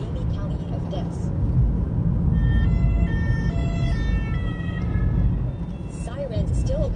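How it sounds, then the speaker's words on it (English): Emergency vehicle sirens wail through empty French city streets during lockdown, a rising and falling tone heard at a middle distance beneath a narrator's voice. "Sirens still occasionally break the calm of empty French streets."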